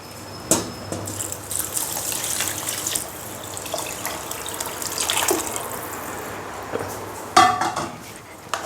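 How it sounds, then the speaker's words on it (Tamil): Measured water runs and splashes steadily into a metal pot of mushroom biryani for several seconds, with a few clinks of utensils near the start and end. "தண்ணி அளந்து வச்சுருக்கிறேன், ஊற்றிக்கலாம்"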